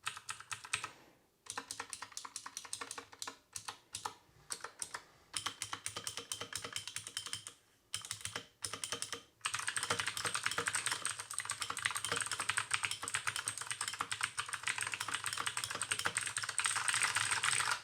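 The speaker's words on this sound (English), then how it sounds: "I know the blue switches are extremely clicky, but if you like that, this keyboard sounds awesome" Rapid, sharp clicking of a mechanical keyboard with blue switches being typed on, steady and close, with short pauses early before a dense continuous burst of keystrokes.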